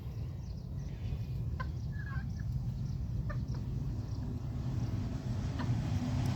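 Free-ranging village chickens cluck in short scattered calls at moderate distance over a steady low outdoor hum, with no talking.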